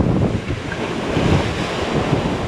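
Strong ocean waves surge and roll continuously at a shoreline fishing spot, with heavy wind buffeting the microphone and no voices over the steady roar.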